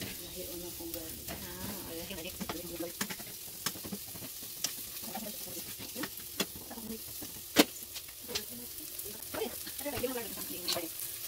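Garlic sautés in a Teflon pan, crackling and sizzling up close with a clatter of stirring and scraping, and a few short sharp knocks against the pan, while faint speech-like sounds drift in underneath.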